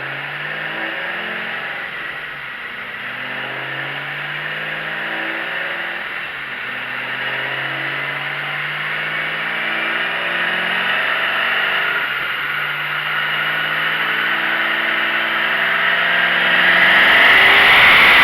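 A 5th-generation Chevrolet Camaro ZL1 running E85 fuel on a dyno, its engine pulling up through the revs in one long, loud, rising drone that climbs steadily toward the end.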